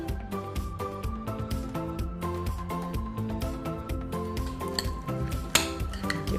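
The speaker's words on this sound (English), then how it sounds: "Give that a stir." A spoon stirs a chicken taco mixture with lime juice in a bowl, producing rapid, close clinks and scrapes against the bowl in an uneven rhythm, with no talking.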